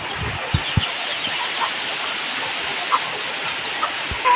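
Chickens cluck in short, scattered calls over a steady outdoor background on a farm, with a few sharp knocks near the start and a brief higher call at the end.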